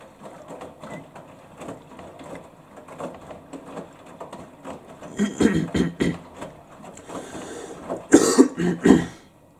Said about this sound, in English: got a bit of a cough there